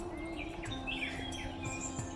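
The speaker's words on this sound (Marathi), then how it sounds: "पक्ष्यांचे खूप छान असे आवाज" Birds chirping in dense trees around a temple near the Konkan coast, several short bright tweets and warbles over a low steady background hum, fairly close and clear.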